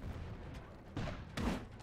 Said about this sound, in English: It's just that explosion when everybody first stands up that I love.